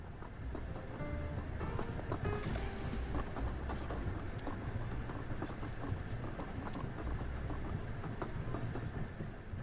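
Inside a train carriage in the video game Duet Night Abyss, a steady low rumble carries rhythmic clickety-clack of wheels over rail joints, with a brief hissing burst early on, continuous and fairly close.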